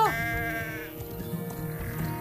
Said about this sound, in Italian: Perché prendi a sassi le mie pecore?